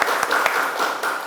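A class of students claps together, several short bursts of hand-clapping rising and falling in uneven rhythm through a classroom's echo.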